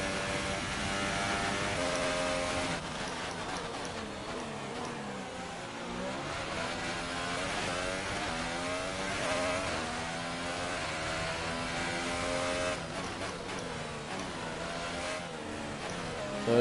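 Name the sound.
Formula 1 race car engine in F1 2018 video game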